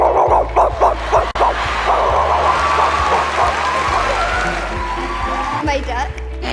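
A young girl imitates a dog barking, giving a quick run of yappy woofs in a close, lively voice, part of a playful string of animal-sound impressions.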